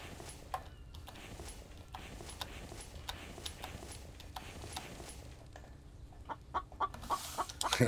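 A chicken clucks in a farm setting in the survival video game The Infected, a few scattered, soft clucks over a steady low background, with some sharper clicks and footstep-like taps toward the end.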